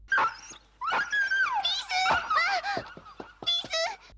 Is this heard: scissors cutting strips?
no